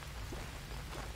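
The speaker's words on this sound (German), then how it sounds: "Es regnet, die Erde wird nass." Steady rain falling in the jungle survival game Green Hell, a dense, even hiss of drops pattering on surfaces with a low rumble underneath, fairly quiet and continuous throughout.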